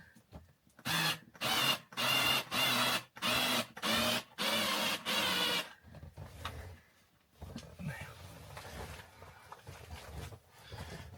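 Power drill or driver whirring in seven short, loud bursts with brief pauses, driving screws during metal shelving installation in an RV storage setup, followed by quieter handling noises.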